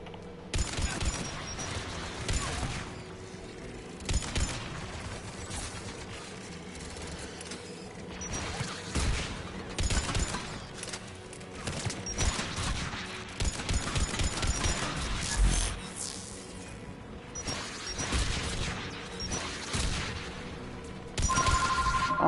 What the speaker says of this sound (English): Guns protecting the tower.